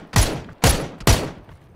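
Three sharp, loud gunshots fire in steady succession about half a second apart, each with a short decaying tail, during a PUBG video game match.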